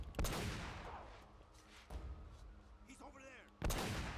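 Sniper fire in Uncharted, heard as a few sharp, widely spaced cracks with decaying tails, fairly close, while someone talks briefly between shots.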